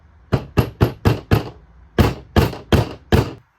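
A hammer gently taps a small bearing seal onto a billet head: nine sharp, close knocks, five quick ones, a brief pause, then four more, each clear and alone.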